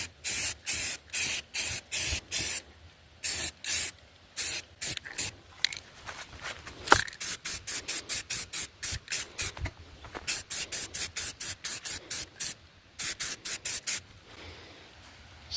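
Short, rhythmic bursts of spray from an aerosol can apply a protective coat to the Enkei wheels of a 2003 Mitsubishi Galant, with about forty close, loud hisses separated by brief gaps and a couple of longer pauses.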